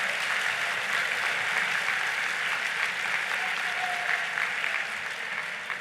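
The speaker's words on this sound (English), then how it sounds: "please applaud your neighbor" Steady, dense applause fills a large conference hall at a progressive political gathering, a crowd clapping loudly and continuously without pause throughout, with no voices standing out.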